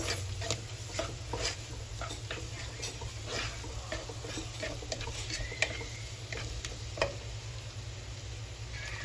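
A spoon stirs cornstarch into a creamy meatball sauce, with soft ticking taps against the pan over a steady low simmer and sizzle, close and even throughout.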